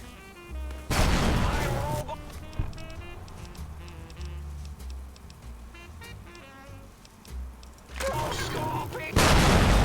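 In Fallout New Vegas, a grenade goes off as a loud, booming blast, followed by a second heavy explosive burst several seconds later, with quieter game noise in between.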